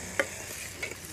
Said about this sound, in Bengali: একটু নেড়ে চেড়ে পরিমাণ মতো জল দিয়ে দিচ্ছি।